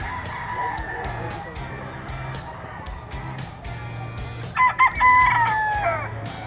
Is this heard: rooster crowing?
yes